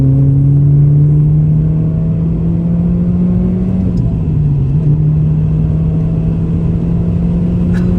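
A 2006 Renault Clio RS, a third-generation model, drives winding roads toward Dunfermline Game Park in Namibia, its engine holding a loud, steady drone from inside the car with a slight dip and recovery in pitch mid-way.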